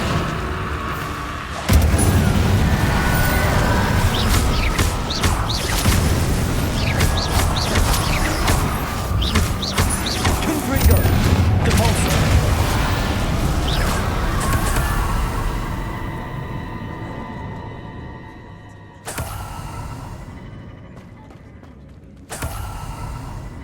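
Fire and blasting spells cast against inferi in the video game Hogwarts Legacy on Xbox Series X. Loud booming and crackling bursts come one after another, then fade to quieter rumbles with brief separate hits near the end.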